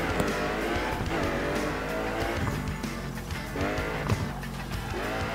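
Cars roar and tires squeal in the racing game Burnout Paradise, with engines revving up and down in repeated sweeps and skidding tyres layered over a constant loud drone.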